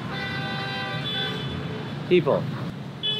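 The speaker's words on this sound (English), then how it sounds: "there's a honking fest outside." Car horns toot in busy street traffic in Lima, Peru, a few short honks sounding over a steady roadway hum while a person speaks nearby.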